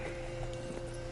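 Roach, a horse in The Witcher 3, galloping with faint, steady hoofbeats under a constant low in-game hum.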